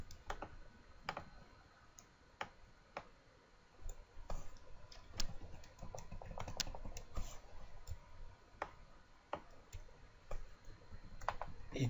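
Quiet computer mouse clicks tap out irregularly while working on a long-sleeved jersey design, sharp isolated clicks spaced a second or so apart over faint room hiss, with no talking.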